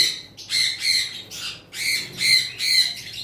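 Green opaline Fischer's lovebirds give a series of harsh, high squawks in quick bursts, loud and close, roughly seven calls with short gaps between them.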